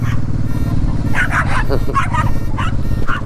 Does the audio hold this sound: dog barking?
yes